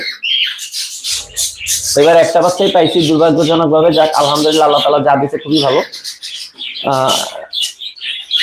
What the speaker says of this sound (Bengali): এটা হচ্ছে আমার গ্রে কোকাটেলের পেয়ার